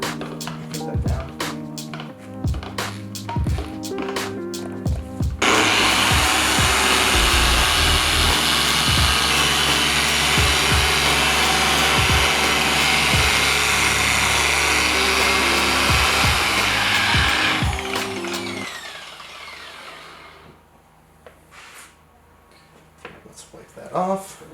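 Rotary car polisher fitted with a microfiber cutting pad runs across car paint during swirl-removal paint correction, a loud steady whir lasting about twelve seconds, with machine noise and handling sounds before and after.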